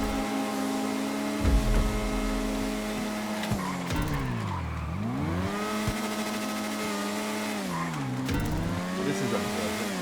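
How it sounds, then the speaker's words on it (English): Car tires spinning and squealing in GTA 5 Online during a class race, a loud sustained screech over a revving engine that swoops down and back up in pitch, with a roaring engine throughout. "It just spun the tire."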